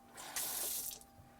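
Water runs from the sink tap in a 1991 Prevost Country Coach motorhome, a soft steady hiss and splash that swells for under a second and then cuts off, quiet and close with no talk over it.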